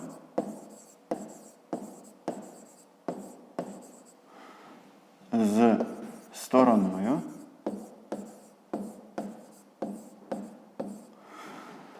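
A pen writes on paper while a grade 5 math exercise is worked out, giving a regular series of close scratchy strokes about once a second, with a pause where a voice speaks.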